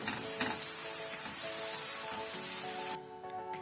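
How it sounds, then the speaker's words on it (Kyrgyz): Steady, close sizzling of onions frying in hot oil, a constant crackling hiss that softens slightly near the end. "Майдан коюп, дакталган майдын үстүнө пиязды салып кууруп алабыз"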